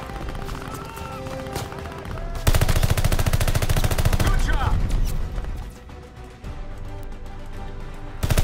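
Rapid automatic gunfire in the video game Call of Duty Vanguard, loud and close, bursting into a dense sustained volley after a few seconds over constant battle noise, with mechanical weapon clatter between shots.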